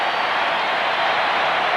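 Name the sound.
Minnesota baseball crowd hoping for a strikeout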